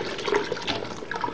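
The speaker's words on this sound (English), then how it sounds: "I'm gonna pour the chicken broth inside the sauce just to like thin it out" Chicken broth is poured into a thick stew sauce, making a brief, close, continuous liquid splashing and gurgling with no talk.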